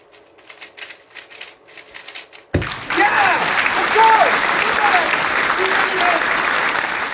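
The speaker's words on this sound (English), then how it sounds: "I had to add in clapping sound effects" After a burst of rapid clicking, a loud wash of applause and crowd clapping, added as a sound effect to a speedcubing solve, bursts in and holds steady to the end, with a few voices cheering underneath.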